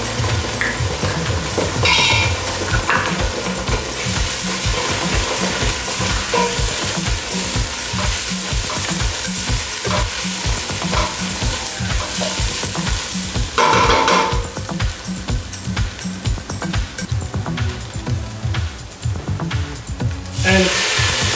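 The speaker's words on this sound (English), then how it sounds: "Now we add the tomato paste" Tomato paste is stirred into Cape Malay style lamb knuckle curry sizzling in a pot, a steady loud frying hiss with scraping spoon strokes and occasional pot clatter throughout.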